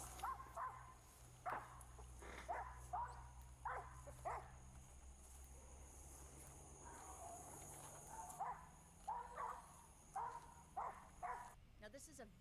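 A dog barks in short bursts at some distance, repeating irregularly over a quiet outdoor background with faint insects and hum.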